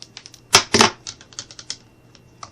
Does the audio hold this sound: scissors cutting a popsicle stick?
yes